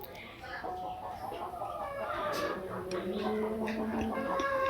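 Chickens on a poultry farm cluck in a steady, dense chorus close by, with a rooster crow breaking through now and then over a constant low background of farmyard noise.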